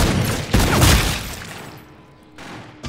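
Rapid gunfire in the video game Call of Duty erupts in a loud, dense burst of shots and booms, then tapers off, with one more sharp shot near the end.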